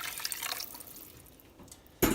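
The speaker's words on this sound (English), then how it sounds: "I put 4 cups of water, and we're going to put 4 more." Water poured into a Dutch oven pan after cooking bacon, a soft trickling splash that fades quieter, then a sudden louder burst of pouring at the end.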